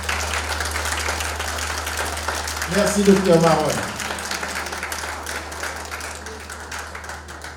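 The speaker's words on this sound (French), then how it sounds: "Je vous demande, avant d'applaudir les finissants, d'applaudir Sœur Maron pour moi" An audience at a graduation ceremony applauds for Sister Maron, a short burst of clapping that swells and fades under someone speaking into a microphone, with steady hall hum throughout.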